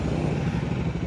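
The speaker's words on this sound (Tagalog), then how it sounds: "May mamaniobra na malaking truck. Yung truck ng semento, yung merong umiikot." Cement mixer truck with a rotating drum maneuvering through traffic, a steady low diesel engine rumble idling close by.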